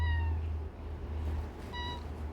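A domestic cat meows twice, close by and clear, each call a short tonal cry separated by a brief pause over a steady low room hum.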